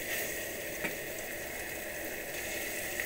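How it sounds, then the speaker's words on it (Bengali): Quiet, steady sizzle of chicken frying in a pan with coconut and poppy seeds, a soft continuous hiss with faint crackles, heard alone with no voices. "ভালো করে কষাচ্ছি, কষাতে হবে ভালো করে"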